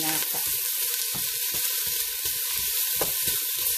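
Fatty beef sizzling as it sautés in virgin oil for adobong karneng baka, a loud, close, constant frying hiss broken by a few stirring clanks, with no talk.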